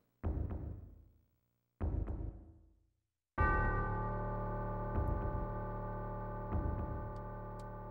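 In Final Fantasy VII, a church bell rings out: two short struck tones, then a long resonant toll that hums on under a few softer repeated strikes, clear and unaccompanied by speech.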